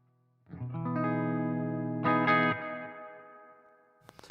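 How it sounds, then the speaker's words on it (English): An electric guitar chord rings out and sustains, a second strummed accent layered on top, with echoing reverb and delay trailing as it fades. "you can hear I have a reverb and delay"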